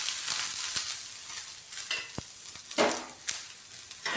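Sliced onions fry in a little oil, giving a light, hissy sizzle with a few sharp scrapes and taps of a spatula tossing them, close-up with no speech.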